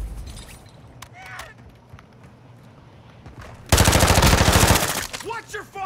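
A sustained burst of rapid automatic gunfire erupts midway through a military shooter game, loud and dense for about a second, with scattered quieter shots and radio-style chatter before and after.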